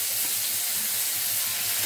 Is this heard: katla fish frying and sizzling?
yes